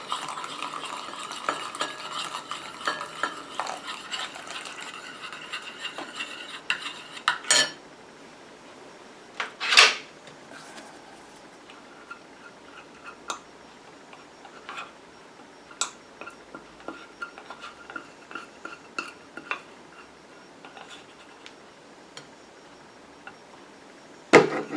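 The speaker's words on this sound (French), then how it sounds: "Et je continue à mélanger comme ça jusqu'à ce que mon émulsion refroidisse et épaississe." A utensil stirs an oat milk conditioner emulsion in a bowl, giving continuous scraping and clinking with occasional sharper taps, close and alone without voices.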